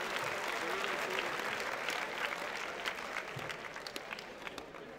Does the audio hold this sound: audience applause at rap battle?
yes